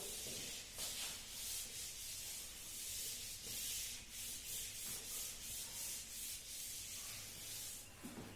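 Writing being rubbed out on a board during a maths lecture, a continuous soft scrubbing with repeated back-and-forth strokes, faint and with no voice.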